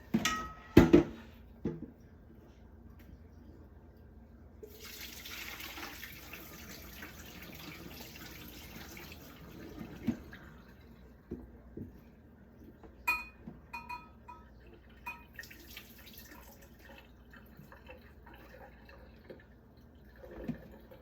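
Water runs and splashes in a kitchen sink as vegetables and noodles are drained, with clinks of dishes and scattered drips. It is faint and intermittent, heaviest in a burst early on.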